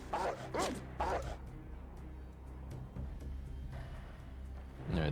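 Dog in the Fallout 2 video game, heard as a few short barks and yips early on and again near the end, over a steady low game hum with some talk mixed in.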